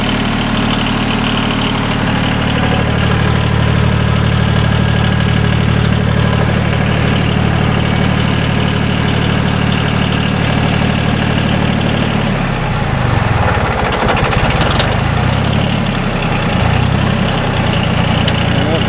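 A John Deere 850 tractor with a Yanmar diesel engine idles close by in a steady, heavy low rumble with a vibrating knock, shifting and roughening briefly in the later part; no talking.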